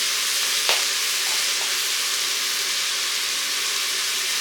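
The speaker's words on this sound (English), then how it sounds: "stir it around, saute, doesn't take long, saute those onions" Onions sautéing in a pan with a steady, even sizzle and hiss throughout, close and continuous, with a brief clink near the start.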